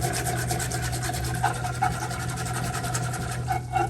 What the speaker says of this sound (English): We are gonna use My new whisk. You gotta stir it up.